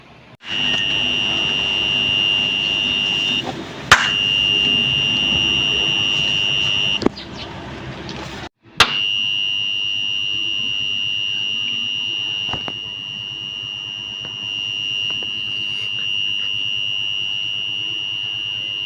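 An Arduino Uno sound sensor setup sets off a buzzer that sounds a loud, steady high-pitched tone. The tone holds in long stretches, broken by brief gaps and a few sharp clicks, with no talking.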